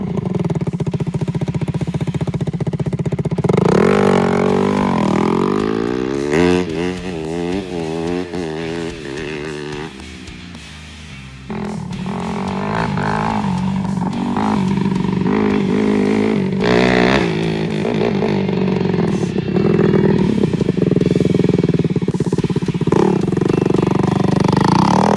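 A Kawasaki KX250 dirt bike engine revs up and down repeatedly with properly set throttle advance, rising and falling in pitch, loud and close, with a brief dip in the middle.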